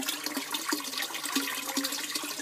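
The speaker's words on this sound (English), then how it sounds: "This is the bell siphon." An aquaponics bell siphon kicks in and drains the grow bed, giving a steady rushing, gurgling flow of water with soft periodic glugs, close and continuous throughout.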